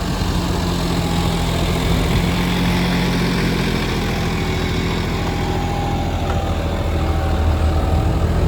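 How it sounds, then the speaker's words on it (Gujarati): A heavy tractor engine runs in a farm field, a loud, steady low diesel drone that holds constant throughout with no pauses. "A heavy tractor"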